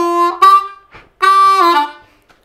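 A C harmonica plays a short bluesy phrase in two bursts with a pause between, low notes bending and wavering on the 2 draw, close and fairly loud.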